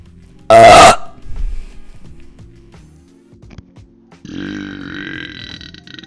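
A woman on a livestream lets out one loud, close burp, followed by faint movement noises and later a steady higher-pitched background tone.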